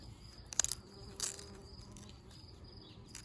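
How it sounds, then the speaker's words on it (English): Faint, steady bee buzzing in a garden with a couple of brief louder passes close by, over quiet outdoor background and no speech. "Oh, there's bees all over, which is good."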